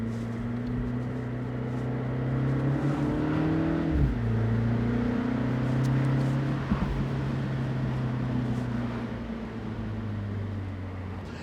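A MINI JCW Convertible drives on a public mountain road with a steady, droning engine. Around the middle, the pitch drops once in a quick gear change and then settles again. There is no talking.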